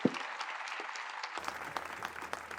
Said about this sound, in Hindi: भले आप लोग तालियां बजा रहे हो